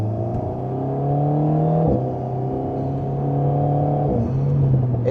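An Alpine A110 sports car accelerates hard with a loud, steady engine drone that climbs in pitch, broken by two brief dips at gear changes, heard close from inside with no talk.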